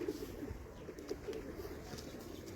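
Racing pigeons on a rooftop coo softly, a faint, low murmuring of a few birds in an otherwise quiet outdoor setting.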